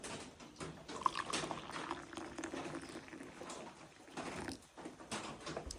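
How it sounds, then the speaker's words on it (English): Already boiled hot water is poured into a tea cup holding a tea sheet, a faint close trickling and splashing that wavers in gentle bursts over several seconds. "I'm going to pour my already boiled hot water."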